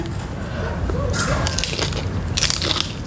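Someone chews a big mouthful of spicy cheese-flavored Korean instant noodles up close, giving wet squishing and crunchy bites in irregular bursts that grow louder toward the end.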